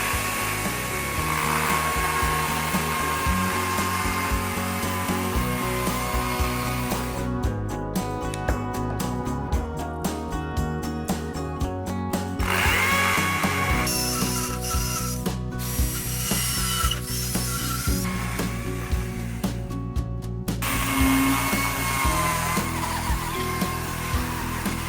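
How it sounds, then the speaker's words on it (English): A Stihl MSA 140C battery chainsaw carves wood into a life-sized swan, giving a loud, steady whirring buzz with a rattling chain. The pitch steps up and down as the blade bites and eases off, over about twenty-five seconds. "start digging in with the chainsaw and start shaping this thing into a swan"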